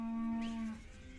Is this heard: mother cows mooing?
yes